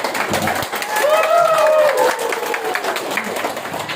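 An audience at a church ceremony breaks into applause, a steady mass of clapping that swells in the middle, with a voice heard over it.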